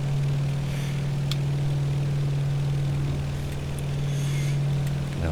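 A DHC-3 Otter's propeller engine climbing in a P3D flight simulator, a steady droning hum with a strong constant low tone, loud and unbroken, with faint clicks over it.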